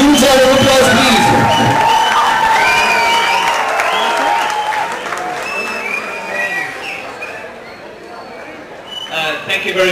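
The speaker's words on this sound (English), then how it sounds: "Use our own applause, please." An audience at a Delhi Daredevils IPL cricket team event applauds, loudest at the start and then thinning out while a voice talks over it.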